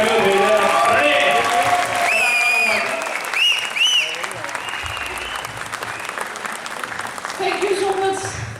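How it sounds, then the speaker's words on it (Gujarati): Loud, sustained applause from an audience at a civil society gathering, clapping steadily through the whole stretch, with cheering and raised voices mixed in. "એક વખત જોરદાર તાળીઓ થઈ જાય."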